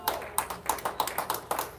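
A few curling fans in a lounge overlooking the ice clap in an even, steady rhythm, with each sharp clap close and distinct.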